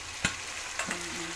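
Onion, ginger garlic paste and goat tripe frying in a pan, a steady soft sizzle with a few sharp stirring scrapes, close and alone.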